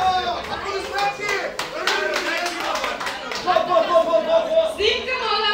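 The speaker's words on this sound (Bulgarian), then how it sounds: "Аплодисменти!" Applause and clapping at a Bulgarian high school graduation ball for eighteen-year-old Stefan, scattered claps mixed with lively chatter, shouting and children's voices in a busy room.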